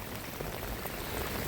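A mix of hail and rain falls steadily outdoors on a winter coast during sea lure fishing, a dense close pattering hiss with scattered sharper ticks and no voices.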